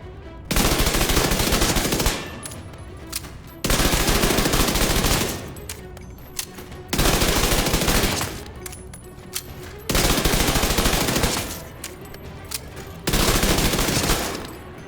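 An MP5 submachine gun in the video game The Division 2 fires five sustained, loud bursts, each lasting a couple of seconds, separated by short quieter pauses.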